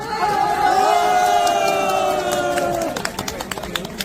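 A crowd at a presidential campaign rally in Jinan cheers loudly with sustained shouts and chanting, then breaks into scattered clapping near the end.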